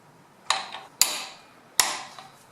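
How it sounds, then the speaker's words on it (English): Three sharp metallic clicks of a torque wrench tightening a wheel hub nut on a Chevy Tahoe, spaced about half a second apart, each ringing briefly, close and clear with no talking. "I'm going to try and be somewhat accurate with this torque wrench"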